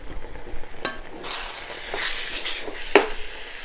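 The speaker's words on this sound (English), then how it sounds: "Let me give that a little stir." A utensil stirs food in a HexClad pan over low heat, giving soft scraping and light sizzling with one sharp clink near the end, close and fairly quiet.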